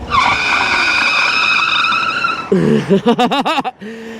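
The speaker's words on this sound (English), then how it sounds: "This is the most funnest bike to do a brake test on" Power GOAT v2 60-volt e-bike tires skid and squeal hard on pavement during a brake test from about 28 mph, a loud sustained screech that breaks into a few pulsing chirps as the bike stops.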